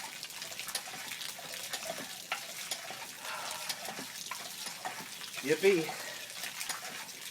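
Water drawn by a hand pump from a shallow, hand-drilled well, a steady rushing splash running throughout with a brief louder gush near the end, while a voice calls out excitedly over it.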